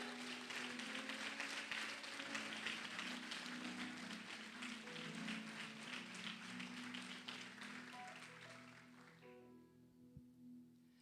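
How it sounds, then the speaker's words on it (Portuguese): A church congregation applauds during a sermon, a sustained wash of clapping over sustained musical tones, tapering off toward the end into quiet with lingering notes. "você pode aplaudir o nome do Senhor por isso"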